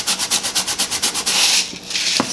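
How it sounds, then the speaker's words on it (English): Fine-grade sandpaper rubbed over dried modeling clay in quick, even back-and-forth strokes, close and crisp, followed by a few longer scrapes and brief pauses, with no voices. "We'll just sand this a little bit."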